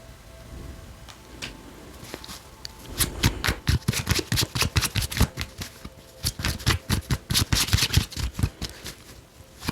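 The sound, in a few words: pulling tarot cards from the deck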